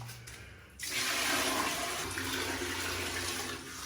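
Water rushes steadily into a newly installed toilet in a makeshift yard plumbing job, a loud, continuous gush that begins abruptly after a quiet start and runs close to the end.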